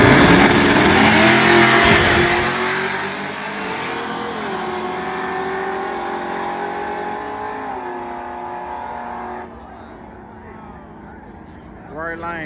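A street racing car with a 383 engine revs hard, a loud rising wail that climbs and holds at high pitch before dropping away; talking is heard alongside.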